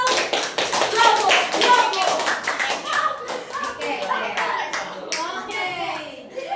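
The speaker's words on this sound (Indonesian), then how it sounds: "tepuk tangan dulu. Bravo." A classroom of students claps heartily, loud and dense at first, then thinning into scattered individual claps as children's voices chatter over it.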